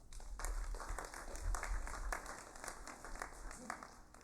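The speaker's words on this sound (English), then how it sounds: "Let's give them another round of applause" A round of applause in a congressional session hall for the President and Vice President, quiet and somewhat distant clapping from the assembly with individual claps standing out.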